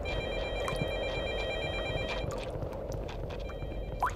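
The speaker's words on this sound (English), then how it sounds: "I'm trying to turn off the phone. Where the hell is the phone at?" A telephone rings steadily in the video game Technician Nightmare, a repeating electronic bell heard clearly at moderate level with faint background noise.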